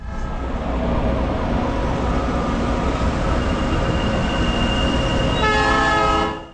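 Passenger train on the rail line to Machu Picchu, a loud continuous rumble of wheels on track with steady mechanical drone, a higher whining tone joining near the end before the sound cuts off.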